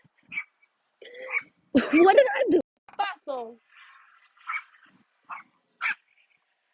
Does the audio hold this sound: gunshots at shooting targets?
no